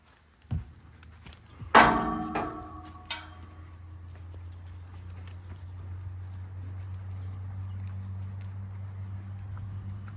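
A few hollow horse hoof clops and thuds early on, then a low steady hum lingers; no voices are heard.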